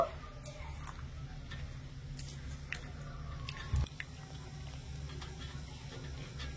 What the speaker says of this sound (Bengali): এবারে ভালো করে নেড়েচেড়ে চিনি রসের মধ্যে মিশিয়ে নেব।